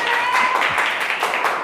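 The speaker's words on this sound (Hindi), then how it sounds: "ताली बजाएं इनके लिए" A classroom of students applauds a classmate, a short burst of scattered hand clapping that fades under the room's noise.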